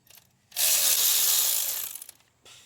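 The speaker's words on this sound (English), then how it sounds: "I'm gonna be removing the 14mm bolt here that hold the transmission and engine" A ratchet wrench loosens a 14mm bolt holding the transmission to the engine of a Nissan Murano, one sustained burst of rapid clicking close by, stopping abruptly, with a brief softer rattle after.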